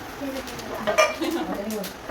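A pan and a kadhai are handled during a gift unboxing, with light metallic clinks and knocks. Quiet rustling goes on around the clinks, with soft voices in the background.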